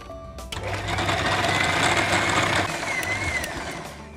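A mixer grinder whirs steadily, grinding roasted coriander, cloves and cardamom into a spice mix for chicken kebab, starting with a click and then running loud and continuous for several seconds.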